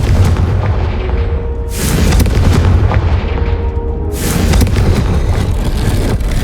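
Two heavy, booming fire-blast spell explosions from the Confringo spell in the video game Hogwarts Legacy, each a loud, sharp burst that rumbles and decays over a couple of seconds beneath a dense, continuous low roar.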